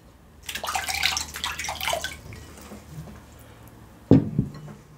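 Water pours and splashes into a bowl for washing hands before a meal of oilless okra soup and fufu, a running pour for about two seconds, then a quieter trickle and a sharp splash near the end.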